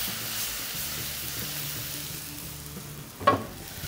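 Masala with coriander powder and chilli powder frying in a pan, a soft continuous sizzle with a faint stirring scrape and a brief louder clatter near the end.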